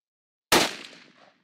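A rifle fires a single sharp shot at a hunt, loud and close, after a moment of silence, with a short echo trailing away.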